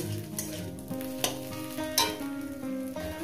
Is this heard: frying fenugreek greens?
yes